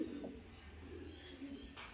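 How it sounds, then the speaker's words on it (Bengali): Bombay pigeons, a pair, give soft low cooing calls at close range, a steady murmuring throb with a faint brighter chirp near the end and no talk. "দেখেন কত সুন্দর এক পেয়ার বোম্বাই কবুতর"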